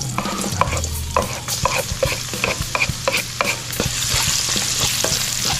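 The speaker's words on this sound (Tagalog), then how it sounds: "start na tayo maggisa ng panglugaw natin" Aromatics are sautéed for lugaw in a hot pan after frying lechon kawali and chicharon bulaklak, with rapid, close spatula scrapes and clacks over a steady sizzle.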